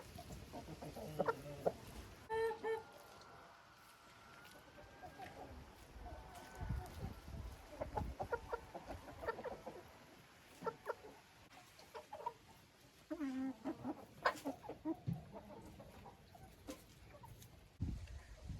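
Hens in a chicken coop cluck on and off in short, uneven bursts at close range, while someone talks over them throughout.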